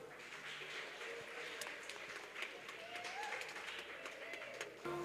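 A festival crowd at the Couleurs du Congo stage claps for a performer, a fairly faint, steady spread of applause with scattered voices and louder pops.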